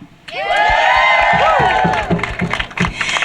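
A rally crowd at a get-out-the-vote bus tour stop bursts into loud cheering, whoops and applause, with shouting voices rising over sustained clapping.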